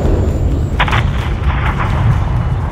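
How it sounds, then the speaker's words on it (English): A missile strike levels a hangar in Call of Duty: Modern Warfare 3, a loud, sustained rumbling blast with bursts of crackling debris over a steady low roar. "have your man drop a missile on that hangar"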